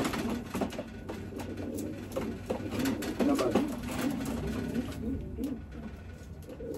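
Racing pigeons coo softly in a loft after a 350-mile final race, a steady low murmur of several birds under a hissing background with a faint mechanical whir.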